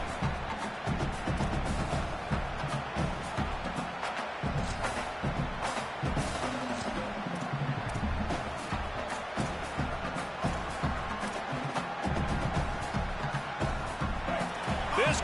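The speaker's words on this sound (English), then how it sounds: "This crowd bringing the energy and noise early." A football crowd at a Texas A&M versus UCLA game roars, a dense continuous wall of cheering and noise with whoops, loud and steady throughout.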